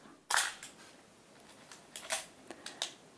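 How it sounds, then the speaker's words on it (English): A vintage 1970s film camera shutter fires with a sharp mechanical click, followed by several softer clicks and snaps of handling, close and quiet in a hushed room. "If you keep pressing the shutter"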